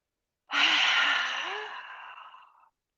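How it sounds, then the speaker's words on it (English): A single deep, forceful exhale during a yoga practice, a loud breathy whoosh that starts abruptly close to the mic and tapers away over about two seconds, alone against silence. "Deep breath in and throw it out."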